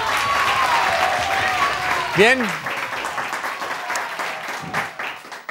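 A studio audience at a TV show applauds steadily throughout, a dense wash of clapping under a voice and a brief vocal whoop.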